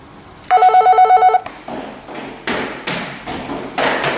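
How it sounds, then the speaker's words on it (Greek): A doorbell rings in a rapid electric burst for about a second, then stops, followed by several dull thumps and knocks. "όταν κάνουν πλάκες και χτυπάνε τα κουδούνια"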